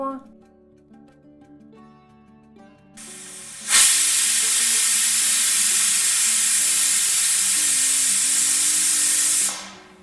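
A pressure cooker whistle bursts out and holds as a loud, steady hissing jet of steam for several seconds before cutting off, while cooking vegetable tehari rice.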